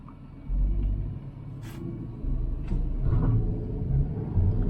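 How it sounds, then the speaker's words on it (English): Inside a Hyundai Grand i10 Nios petrol automatic in manual mode, the engine drones as a deep, loud rumble that swells under hard acceleration, with a few faint higher squeaks above it. "a lot of motor sound. Well, we are at 5000 RPM and upshifting."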